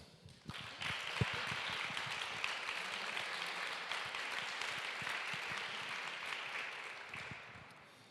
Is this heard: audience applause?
yes